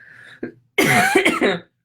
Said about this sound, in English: And so now I'm coughing a little bit.